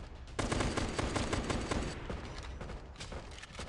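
Sustained gunfire in the survival game Last Day Alive, a dense, loud stretch of rapid shots and automatic bursts running nearly unbroken for several seconds, with no voices.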